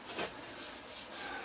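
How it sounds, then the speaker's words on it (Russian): Drum sander fitted with P100 grit working a wooden serving board, a continuous broadband rubbing hiss that swells and eases in a few slow passes, close and steady with no talking. "Шлифовать, конечно, буду не вручную, а на барабанно-шлифовальном станочке."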